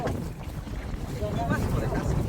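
Wind gusts across a river around a fishing boat, a constant rough buffeting rumble close to the microphone, with voices talking beneath it.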